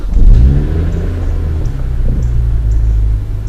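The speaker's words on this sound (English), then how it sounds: "The car stutters a lot on cold starts, and I don't know why." A BMW with an N55 engine runs rough on a cold start, a loud, close low rumble with uneven idle and faint irregular ticks, heard without speech.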